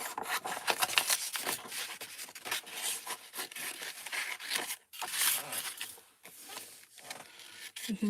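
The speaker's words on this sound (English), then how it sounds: "So with a lovely pointy pair of scissors," Pointy scissors snip through paper in a run of close, crisp cuts with a rubbing, rasping texture, brief pauses between strokes and no talking.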